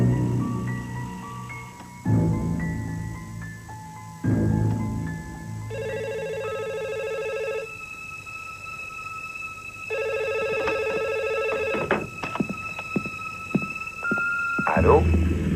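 A telephone rings in two sustained electronic bursts separated by a pause, heard close up amid softer background sounds and clatter.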